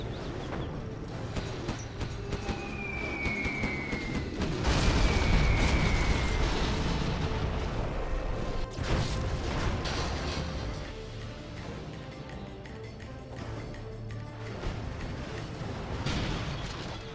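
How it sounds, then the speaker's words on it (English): Carpet bomb strike in a real-time tank strategy match on a mountain map, a rolling series of heavy booms swelling from a dense battle din, with faint whistling streaks overhead before the loudest blasts. "Carpet bomb from Size."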